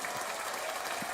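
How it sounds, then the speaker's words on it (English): A brief patch of dense applause, many hands clapping together in a steady wash of sound. "I want to clap"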